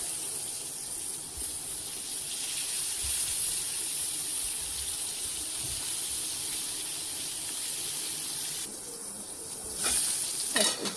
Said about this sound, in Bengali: এখন পুটলগুলো এই তেলগুলোতে ফ্রাই করে নিব